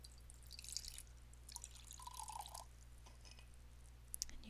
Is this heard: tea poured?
yes